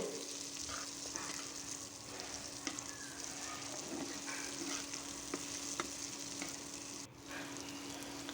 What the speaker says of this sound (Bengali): এবার দিয়ে দিলাম আলুগুলি এবার আবার একটু ভেজে নেব